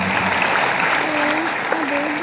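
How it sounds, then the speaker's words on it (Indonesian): A church congregation claps during a sermon, a dense sustained wash of applause with a voice speaking over it. "Tepuk tangan yang paling meriah."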